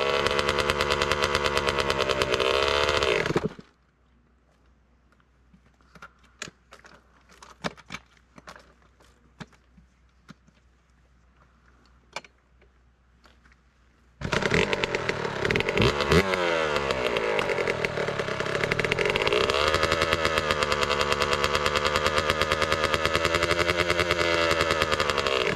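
A Yamaha YZ65 dirt bike engine revving on an evening ride, a loud, buzzy high-pitched two-stroke whine that cuts out abruptly into near silence with scattered clicks, then roars back and climbs through revs for the rest of the ride.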